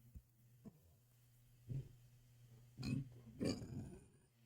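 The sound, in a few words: burping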